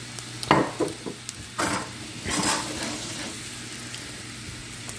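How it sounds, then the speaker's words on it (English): Scraping and stirring across the bottom of a pan while piccata sauce with lemon juice reduces and sizzles, a few distinct scrapes and clanks near the start, then a softer bubbling simmer. "Just going to scrape up these little bits that were in the bottom of the pan"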